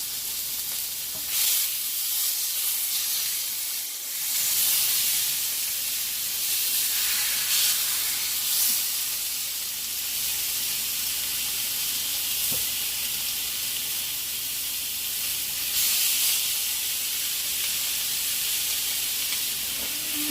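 Pork ribs for a sticky glazed recipe sizzle steadily in a hot pan on medium-high heat, a dense, continuous hiss of browning meat that stays loud and close throughout, with occasional crackling surges and no talking.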